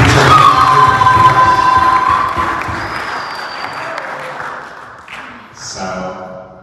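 A church congregation at an Easter service bursts into loud clapping and cheering for Jesus, with shouts over the applause, then it fades out over several seconds into a quieter room.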